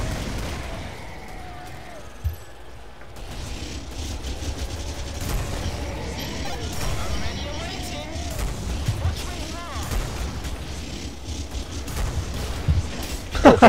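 Husk cannon blasts and chaotic combat in the co-op shooter Killing Floor: repeated booms and gunfire crackle through a dense, continuous battle din, with players talking over it throughout.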